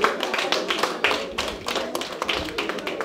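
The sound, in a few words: audience applauding the chargé d'affaires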